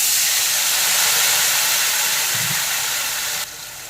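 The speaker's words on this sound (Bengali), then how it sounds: "আলু ভাজা হয়ে গেছে দিয়ে দিলাম সামান্য জল" Water poured into a hot pan of fried potatoes for a Bengali hilsa curry with potato and eggplant gives a loud, steady steam hiss that runs throughout and drops in level near the end.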